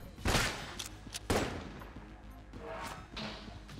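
Gunshots in the bullet-hell game Enter the Gungeon, a few punchy blasts followed by lighter scattered shots and impacts at moderate volume, with no talking.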